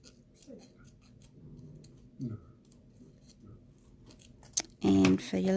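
Scissors cut paper for a scrapbook layout with a few crisp, spaced snips close by, and a voice speaks briefly near the end.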